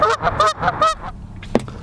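A flock of geese honks repeatedly on a road around a 2018 Kia Niro driving in electric mode, with loud, close, overlapping calls in a rapid burst, then a short quiet stretch and one sharp final sound.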